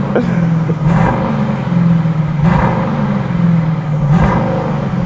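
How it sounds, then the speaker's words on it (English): An Aston Martin DBX 707 SUV with its new exhaust system runs loud and close, holding a steady rumbling idle broken by three sharp rev blips. "Now I think it's time to just have a listen to the DBX 707's new"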